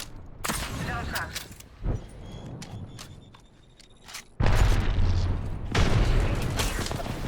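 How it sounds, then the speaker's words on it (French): A frag grenade explodes in a video game: a sudden loud blast about two-thirds through, followed by a sustained roar, after scattered mechanical clicks and gunfire-like pops. "Je lance une grenade frag."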